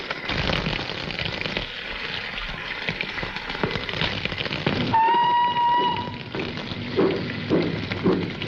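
A steam-era passenger train stands and rumbles at a station platform, with a long, steady whistle sounding midway, followed by clanking and hissing of the carriages.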